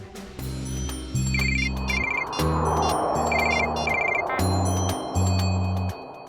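A mobile phone ringtone plays a repeating electronic melody in loud bursts, with a hiss of background noise between phrases.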